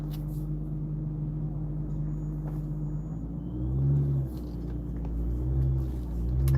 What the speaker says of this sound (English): I don't know if you guys can hear his supercharger